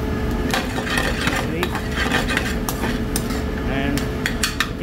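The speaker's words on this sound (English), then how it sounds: "I added the green chili and cilantro in here already, mixing up." Paneer bhurji with green chili and cilantro stirred in a pan, with a steady sizzle under scraping and clinks of a utensil against the pan, close and fairly loud, no talking.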